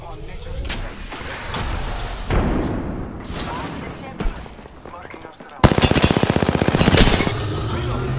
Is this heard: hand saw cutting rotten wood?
no